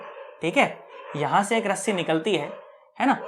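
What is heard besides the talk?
street dogs barking at night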